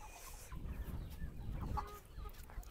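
Chickens cluck and fuss at a Dao village farm on Mau Son mountain, where pigs are also kept, with a few close clucks and a soft crow over low rumbling background noise.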